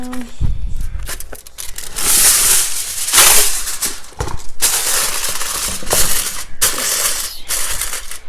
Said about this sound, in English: then we're going to cover it in foil